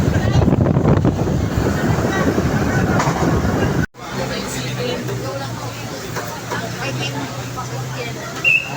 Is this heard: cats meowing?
no